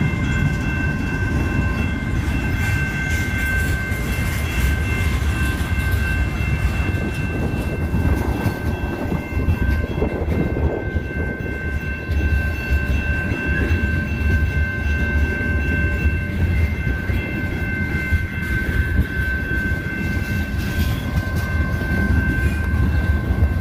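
A CN westbound freight train passes a road crossing on the Flint Subdivision in Michigan, a loud, steady rumble and rolling wheel noise that stays close and continuous for the whole stretch.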